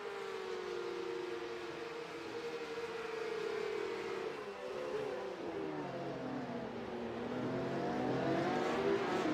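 Race cars screaming around Hockenheim in iRacing, several engines whining and revving close together as they pass and shift gears, a continuous rising and falling drone with no voices.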